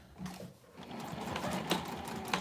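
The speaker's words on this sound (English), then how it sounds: "I'm just going to sew at 1/4 inch" A sewing machine stitching a quarter-inch seam on a mini box tote runs in a soft, close mechanical whir with faint rhythmic ticking, quiet and unaccompanied by talk.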